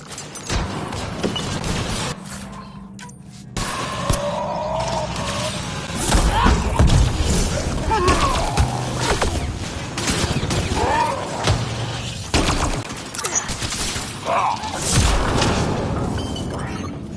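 A Mass Effect Andromeda battle aboard the asari ark, full of heavy thuds, booms and gunfire, with a grenade blast among them. Voices shout and talk throughout.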